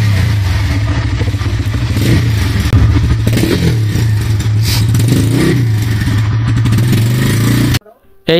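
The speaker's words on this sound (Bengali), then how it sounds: "এই টিভিএস রাইডার বাইকটার আপনারা সাউন্ড শুনতে পারলেন, খুবই স্মুথ এবং খুবই লাউডলি" TVS Raider 125cc motorcycle engine running, a loud, steady idle with a few throttle blips that rise and settle before cutting out abruptly near the end.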